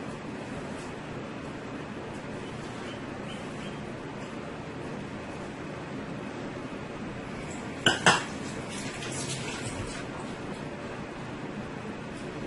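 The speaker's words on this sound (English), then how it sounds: "now I'll go ahead and I'll add my frozen soursop into my dish here" Frozen soursop dropped into a blender dish with pineapple and banana, a couple of sharp hard clinks and knocks standing out over quiet room noise, followed by brief rattling.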